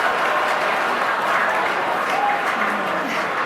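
Awards show audience erupting in loud, sustained applause and cheering after a joke, a thick unbroken crowd roar with a few voices rising through it.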